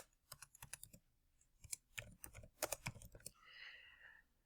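Quick bursts of typing on a computer keyboard: clusters of crisp, close key clicks with brief pauses, quiet and alone, ending in a soft rustle.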